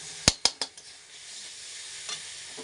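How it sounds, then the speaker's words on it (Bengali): Pointed gourd, potatoes and sugar drop into a hot frying pan with three or four sharp clattering hits in quick succession, then a quiet, low sizzle with one faint scrape. "এবার দিয়ে দিব পটলগুলা চিনিগুলা আলুগুলা সব একবারেই দিলাম"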